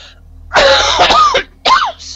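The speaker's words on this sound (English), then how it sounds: "Apologies for the coughing." A person coughs hard close to the microphone, a harsh rasping burst of about a second followed by a shorter second cough, loud against quiet background hum.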